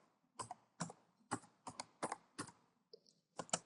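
Close, quiet keystrokes on a computer keyboard come as about eight separate clicks at an uneven, unhurried pace, with a brief faint tone near the end.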